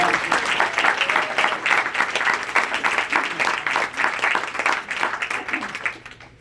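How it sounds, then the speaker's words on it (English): Audience applause at a university scientists' town hall, a dense, steady round of clapping from a roomful of people that tapers off at the end, with no talking over it. "just give them a round of applause"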